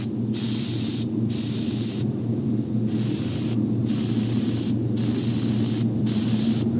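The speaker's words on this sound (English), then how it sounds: "So we'll lay the airbrush real close to the fish." Airbrush spraying paint close onto a largemouth bass taxidermy mount, a steady hiss in repeated short passes with brief pauses between them, over a constant low compressor hum.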